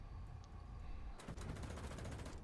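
Aircraft cannon fire in the War Thunder flight simulator, a sudden rapid burst of repeated shots over steady engine drone, loud and continuing to the end.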